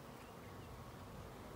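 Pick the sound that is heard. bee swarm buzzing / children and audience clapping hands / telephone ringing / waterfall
bee swarm buzzing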